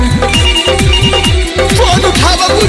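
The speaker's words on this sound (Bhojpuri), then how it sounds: "फोन हमारो रिसीव नहीं करे" A loud electronic phone ringtone in a Bhojpuri sad song, the call going unanswered, plays a repeating falling melodic pattern in steady quick cycles, close and prominent, with no talking.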